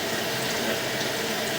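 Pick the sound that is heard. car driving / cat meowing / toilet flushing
toilet flushing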